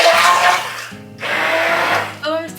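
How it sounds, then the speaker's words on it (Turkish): A blender mashing boiled potatoes with butter, milk and spices in a home kitchen, its motor whirring loudly and close in two bursts with a brief dip between, with someone talking over it. "Şimdi blenderla çekeceğim patatesi"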